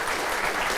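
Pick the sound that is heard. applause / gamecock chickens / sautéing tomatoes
applause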